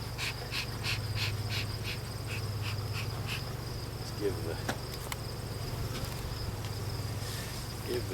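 Guard bees buzz steadily at the entrance of a poly beehive during a fall hive check, a dense continuous hum close to the microphone, with a brief word spoken near the start.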